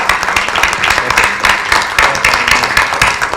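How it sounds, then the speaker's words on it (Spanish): Audience applause at the opening of an international publishers' and booksellers' meeting, welcoming a guest: dense, steady hand clapping from a sizeable crowd, loud and close, with no talk over it. "le pido un aplauso para nuestro huésped"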